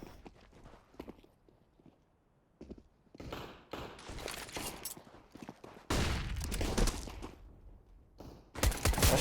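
Gunfire bursts from a Counter-Strike match on the Dust 2 map, with clusters of sharp shots at a few moments and a loud sustained volley late on, plus footstep-like clatter between them.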